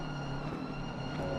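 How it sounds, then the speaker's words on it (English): Road and engine noise from a BMW race car in the Assetto Corsa Competizione racing game at Spa, a steady muted hum with tonal whine held at an even level throughout. "Listen to the road noise of the BMW, how quiet it is."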